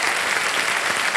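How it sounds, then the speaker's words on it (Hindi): Applause from a studio audience on a televised quiz show, dense steady clapping filling the whole short stretch without any talk. "तालियां बज जाएं इनके लिए।"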